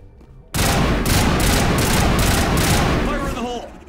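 A burst-fire weapon in Mass Effect shoots in loud, rapid, rhythmic volleys, with pulses repeating for about three seconds before trailing off.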